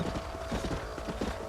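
A black and white horse in Red Dead Redemption clip-clops along in a quick, steady rhythm of hoofbeats, heard fairly faint with no talk over it.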